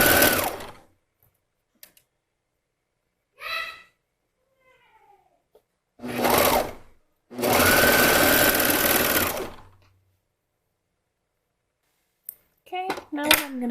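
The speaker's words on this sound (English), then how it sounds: "I'm going to sew them with my 1/2 inch seam allowance." A sewing machine stitches the shoulder seams of a tank top in short, loud bursts. It stops and starts several times, with quiet pauses and faint handling clicks in between.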